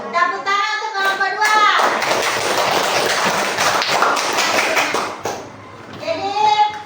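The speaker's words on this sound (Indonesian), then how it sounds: "Tepuk tangan untuk kelompok" A classroom of students applauds a presenting group, a burst of many small hands clapping and tapping that swells, then fades as a teacher's voice returns at the end.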